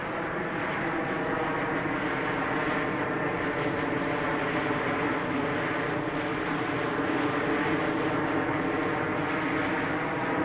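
An aircraft on its landing approach, a steady engine drone with a thin high whine holding evenly throughout, fairly close and alone without talk.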